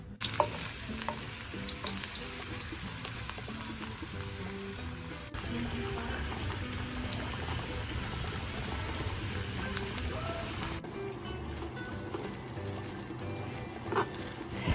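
Green beans hit hot oil with garlic and red pepper flakes, giving a steady loud sizzle and hiss throughout, with occasional stirring clatter and a slight drop in intensity near the end.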